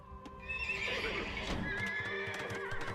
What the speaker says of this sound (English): 10 splendid white horses, exactly as agreed.